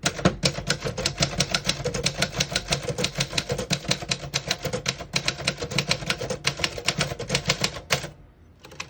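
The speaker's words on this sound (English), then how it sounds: "I'm going to type a sentence on the next line." A 1964 Remington Premier portable typewriter being typed on, a steady rapid run of close, loud key strikes with metallic clacks that stop abruptly near the end, leaving quiet.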